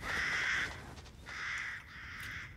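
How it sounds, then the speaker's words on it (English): A crow caws three times in Resident Evil Village near Castle Dimitrescu, each call harsh and drawn out with short pauses between, fairly close over faint ambient background. "Should have tested if I could shoot that crow"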